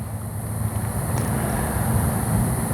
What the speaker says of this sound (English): I'm enjoying the nighttime sounds, even the traffic in the background